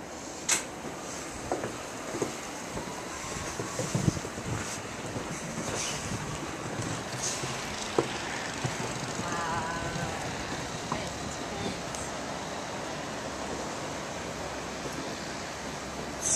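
Blizzard wind blows outdoors in Rogers Park, Chicago, a steady roaring rush buffeting the microphone, with occasional sharp knocks and gusts throughout.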